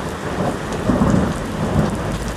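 Heavy rain pours steadily on an Istanbul street during a storm, a dense hiss of drops on pavement with low rumbling thunder rolling underneath, continuous and close, with no voices.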